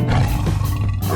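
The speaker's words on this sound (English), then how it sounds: "Tiger." A tiger's roar from a 3D animal video game, one loud, deep, rumbling growl lasting about a second, heard close and on its own.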